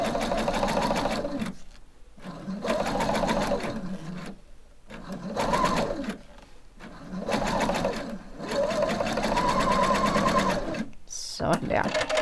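A sewing machine stitches satin ribbon edging around a garment's armhole, running in several steady whirring bursts separated by short pauses, loud and close, with a person speaking now and then.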